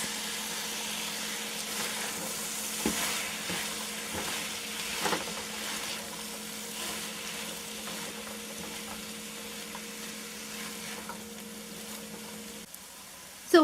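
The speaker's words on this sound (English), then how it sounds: "I'm just gonna give it a good mix to get that caramelized sugar coating on all those vegetables." Sweet and hot peppers cook in caramelized sugar in a pan, giving a continuous sizzle with occasional stirring scrapes and a steady faint hum beneath, ending in a sharp clatter.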